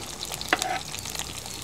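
Small shallots and green chillies sauté in hot oil in a pan for a Tamil anchovy curry, a steady close sizzle with one sharp clatter of a spoon against the pan partway through.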